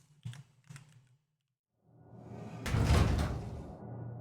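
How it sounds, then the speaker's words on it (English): A door opens in the video game Eliza with a loud, broad whoosh that swells and lingers after two brief taps and a short silence, alone with no talk. "Yeah, I've never even heard that door."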